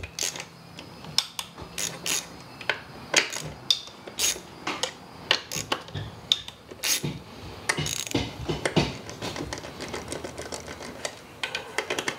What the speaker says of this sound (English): Take out these 4 10mm bolts.